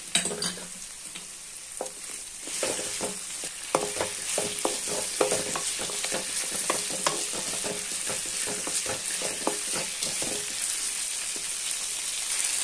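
Potatoes for a capsicum curry fry in a pan, a constant close sizzle broken by repeated scraping stir strokes, with no one speaking.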